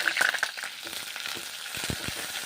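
Pointed gourd (potol) pieces fry in hot oil with salt and turmeric, a soft steady sizzle broken by scraping clicks of a metal spatula stirring them in the pan.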